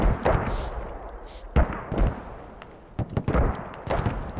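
Mortar barrage in the Squad military game, with several heavy thumping launches and booms at irregular intervals, some close and some farther off.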